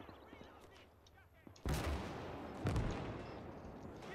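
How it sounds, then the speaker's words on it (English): Heavy 114mm artillery fire in the WWII strategy game Gates of Hell: Ostfront, Libya 1941 defense: two loud, broad booming impacts about a second apart, each leaving a long rumbling roar, over quieter scattered battle noise. "Looks like we got some artillery. These are 114mm."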